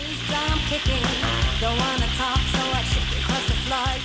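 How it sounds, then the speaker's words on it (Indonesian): Loud, close sizzling and crackling of marinated free-range chicken frying in hot oil, continuous with bubbling spatter throughout. "Ayam kampung yang sebelumnya udah dimarinasi, kita goreng ya."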